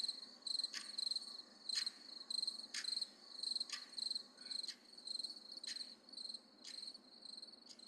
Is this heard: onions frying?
no